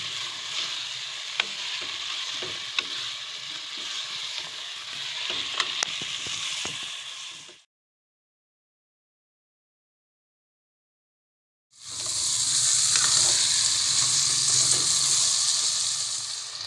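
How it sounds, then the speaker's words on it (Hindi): Mutton frying in a karahi, a loud continuous sizzle and hiss with occasional stirring scrapes; the sound cuts out completely for a few seconds, then returns just as strong. "गोश्त हमारा अच्छा सा भुना जा रहा है"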